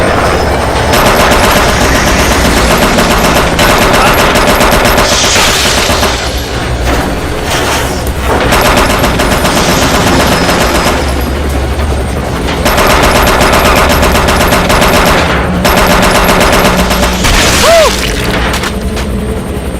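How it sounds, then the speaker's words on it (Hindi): Sustained machine-gun bursts and booming gunfire from a helicopter in an action movie, loud and continuous with rapid repeated shots and blasts filling the whole stretch, no talk. "मैं उस पर फायर करने वाला हूँ।"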